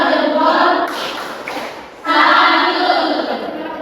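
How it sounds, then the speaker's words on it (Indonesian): A classroom group applauding together, a sustained burst of hand clapping that briefly dips and then swells again, fairly loud and close, with no talk over it. "Oke, tepuk tangan."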